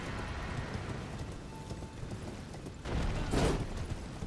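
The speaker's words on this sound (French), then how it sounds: "vous prenez votre cheval et vous passez à côté de lui." A horse gallops in the Elden Ring video game with a dense, continuous clatter of hooves under a rumbling game backdrop, swelling louder near the end.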